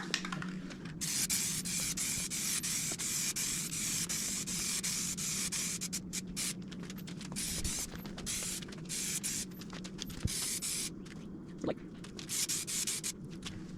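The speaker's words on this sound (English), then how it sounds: "it's the same thing, just spray painting it" Steady hiss of an aerosol can of Rust-Oleum outdoor fabric paint spraying continuously onto fabric, close and fairly loud, with brief pauses and small rustles as the can is moved.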